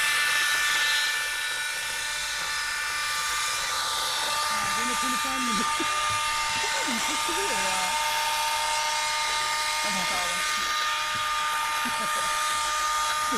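An electric mixer whisks batter for chocolate trileçe until foamy, giving a steady, close, high motor whine that runs the whole time while someone talks over it.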